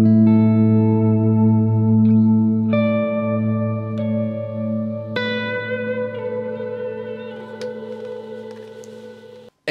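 Electric guitar played through a Positive Grid Spark 2 amp on a blackface Lux Reverb model, a series of sustained clean chords struck one after another with long ringing decay and reverb tails, loud and close.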